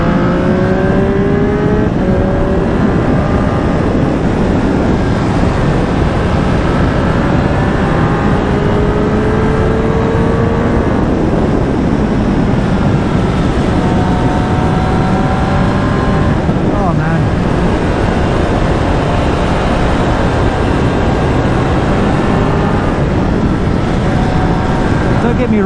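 A 2021 Triumph Street Triple RS naked motorcycle ridden fast gives a loud, continuous engine roar with rising and falling revs and wind rush, heard close up from the bike.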